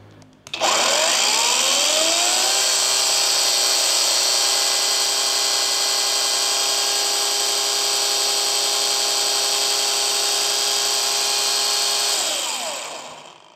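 A cordless power tool powered by a Doliz battery spins up and runs at full speed for an RPM test, giving a loud, steady high-pitched whine that holds for about eleven seconds before winding down. No one speaks.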